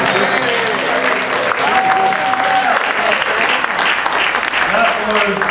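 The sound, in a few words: audience applause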